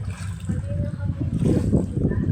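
Strong floodwater rushes across a flooded road next to a dredging site, a steady, churning roar of moving water up close. A voice speaks over it.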